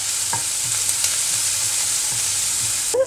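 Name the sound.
onions sautéing in oil with cumin and fennel seeds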